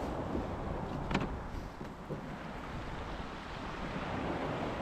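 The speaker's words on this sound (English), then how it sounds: "there's a few big waves and crashing waves" Big waves crash at the shore beside a small Polycraft 300 Tuffy fishing boat, a steady broadband surf roar with some wind buffeting the microphone, continuous and fairly loud throughout with no talk.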